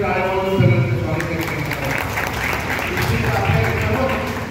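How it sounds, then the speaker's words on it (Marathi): An audience at a public event applauds to welcome elected officials, producing sustained clapping that mixes with talk over a loudspeaker. "आपण सगळ्यांनी त्यांचं टाळ्या वाजवून सगळ्यांचं स्वागत"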